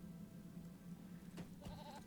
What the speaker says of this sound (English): Mount up on our goat.